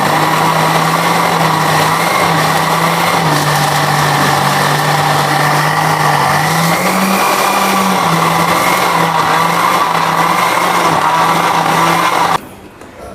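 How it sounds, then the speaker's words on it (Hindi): Steady, loud whine of a mixer grinder blending green chillies, garlic and herbs for coriander mint chutney, the motor pitch wavering slightly as it runs alone and then stopping near the end. "इसको पहले अब हम ग्राइंड कर लेंगे"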